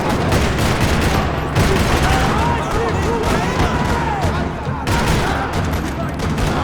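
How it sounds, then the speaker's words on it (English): Dense, continuous gunfire crackles in rapid bursts, loud and close, with voices shouting underneath throughout, in a parking lot in the video game Max Payne 3. "Another parking lot rattling with gunfire."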